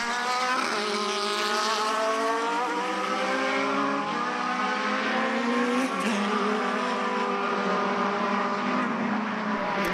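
Delara and Formula Renault single-seater race cars scream along the main straight at Mondello Park, engines loud and continuous with rising and falling pitch as several cars pass close by in succession.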